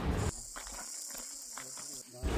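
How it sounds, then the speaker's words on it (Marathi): Daytime crickets at Raghuveer Ghat, a mountain pass near Khed, keep up a steady high-pitched shrill trill in the background while a person talks over it nearby. "भर दिवसा रातकिड्यांचा आवाज ऐकताय ना?"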